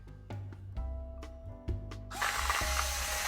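An electric coffee grinder set to grind size 3 works through coffee beans for an iced hand-drip brew, giving a series of sharp mechanical clicks and whirs that swell into a loud, dense, continuous grinding roar, close by and with no talking.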